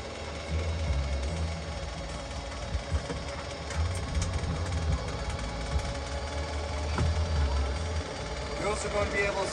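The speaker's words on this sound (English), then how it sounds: "450 horsepower engine." A Montara Surf Boss 25 wake boat's 450-horsepower PCM inboard engine idles with a steady low rumble, heard at a moderate distance beneath faint background noise.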